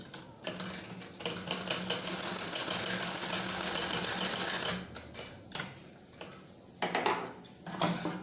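A sewing machine stitches fabric in a fast, steady mechanical rattle that runs for several seconds, then stops and restarts in short bursts near the end, close and clear with no talk.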